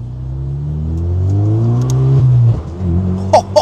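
A sports car in Monaco accelerating hard, its engine note climbing steadily, then a sharp, abrupt gear shift that cuts the sound before it pulls again, loud and close.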